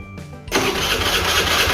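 A motorcycle engine fitted with an anti-theft alarm and engine cut-off is started with the starter button: a brief quiet lead-in, then the engine abruptly catches and runs loud and steady close by, with no talk.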